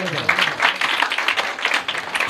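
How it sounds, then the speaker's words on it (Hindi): A church congregation claps together in sustained, dense applause throughout, with voices mixed in beneath the clapping, fairly loud and close. "अपने वास्ते जोर ना तालियां बजाओ ना जरा"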